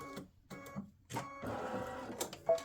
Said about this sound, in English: color stop number 5 is going to stitch a fill in here